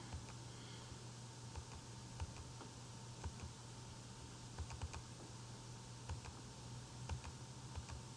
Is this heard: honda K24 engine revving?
no